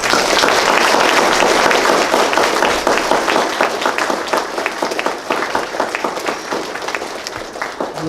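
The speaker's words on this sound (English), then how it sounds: "one more round of applause for our Eagles." A room full of people applauds Eagle Scouts at a Court of Honor, steady dense clapping from many hands that holds loud and close throughout, easing only slightly toward the end.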